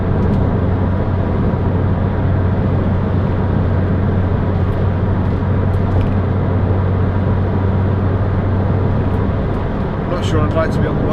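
Steady, loud drone from a 2006 Toyota MR2 1.8 VVT-i roadster engine at around 2,600–2,700 rpm while driving, mixed with constant road and wind noise.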